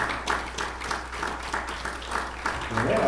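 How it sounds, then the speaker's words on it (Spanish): A church congregation claps for the Lord during a Spanish-language sermon, rhythmic bursts of clapping recurring about every half second, fairly loud and close, mixed with some voices. "Denle palmas al Señor, hermano."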